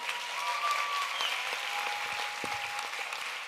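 Steady applause from a large audience at an e-commerce festival event in Lebanon, a dense continuous wash of clapping held at even loudness throughout, with a faint tone running beneath it.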